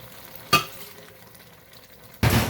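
Two brief bursts of stirring masala with ginger, garlic and green chilli in a pot, with frying sizzle, separated by a quieter simmering pause.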